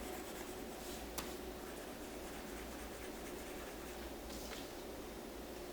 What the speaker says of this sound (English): I always like to turn my paper as I'm working on coloring.